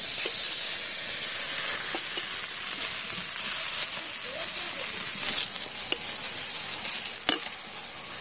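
Aubergine slices fry in mustard oil in a kadai, giving a steady, close sizzle with a few sharp crackles and stirring scrapes throughout.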